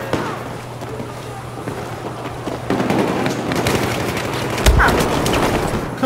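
Gunfire in Battlefield 4 crackles through a busy multiplayer match, bursts of shots and a sharp boom near the end over a steady low hum, with a few faint voices in the background.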